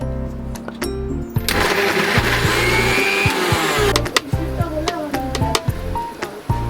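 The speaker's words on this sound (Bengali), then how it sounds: "মিক্সিটা চালু করছি।" A mixer grinder switches on and runs with a loud, droning motor whir that pulses as the load shifts, close and harsh, with a few clunks and knocks near the end.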